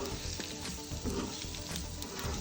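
Egg fry with turmeric sizzles loudly in a pan while it is turned and stirred, a dense continuous crackle with soft scraping of a spoon, close up.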